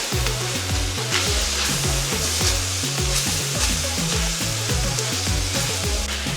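Cheesesteak filling is stirred with salt in a hot pan, a loud, steady sizzle with a constant frying hiss and repeated scraping stirs throughout.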